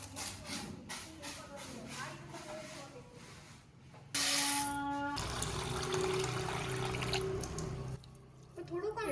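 Running water rushes steadily into a vessel for a few seconds as rice is washed in a home kitchen, following a stretch of close-up talking and clinking.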